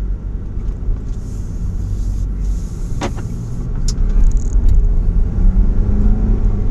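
A manual MK7.5 Volkswagen Golf GTI pulls away, its engine a steady low rumble that swells a little louder as it starts driving, with a brief click partway through.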